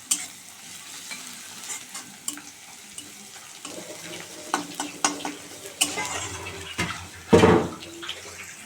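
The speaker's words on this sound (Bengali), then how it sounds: "রসুনটা দিয়ে একটু ভালো করে নেড়ে নেব যেন কাঁচা গন্ধটা চলে যায় রসুনে" Garlic stirred and fried in a pan while cooking with duck eggs and dried fish paste, giving soft sizzling with scraping and stirring clatter that builds toward a louder burst of frying near the end.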